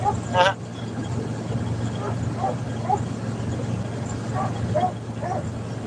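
A dog barks and yips a few times, short scattered calls at moderate distance over a steady engine hum inside a moving vehicle.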